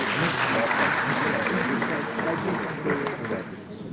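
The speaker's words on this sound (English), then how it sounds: "I think they deserve a round of applause" Applause from an audience at a formal gathering, continuous and fairly loud throughout, with voices murmuring in the crowd beneath the clapping.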